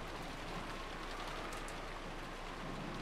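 Steady rain falling with wind in the Umineko When They Cry visual novel, a continuous soft hiss of drops with a low rumble underneath, even and unbroken.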